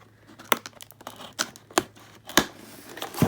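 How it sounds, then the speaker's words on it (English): Scissors snipping open a cardboard box holding a holiday card kit, a handful of sharp, close cuts and crinkles spaced irregularly over quiet background. "we're going to have to get this opened with some scissors"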